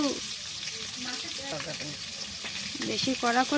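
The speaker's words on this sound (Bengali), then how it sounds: "মাছগুলো আমরা হালকা ভেজে নেব।" Koi fish (climbing perch) fry lightly in oil for tel koi curry, giving a soft, steady sizzle with occasional crackles beneath a person talking.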